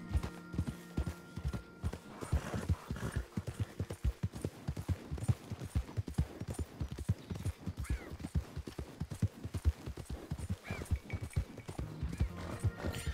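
Horse hooves in a video game clop in a rapid, steady galloping rhythm throughout, with brief whinnies rising over the trotting and some faint background game sounds.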